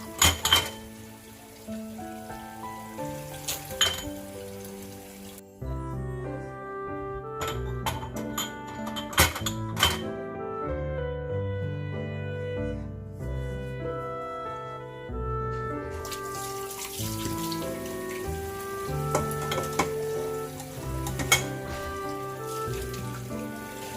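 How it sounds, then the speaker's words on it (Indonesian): Dishes clink and clatter in a sink while water trickles and splashes steadily, with occasional sharp knocks of plates and utensils. "Lanjut saya cuci piring"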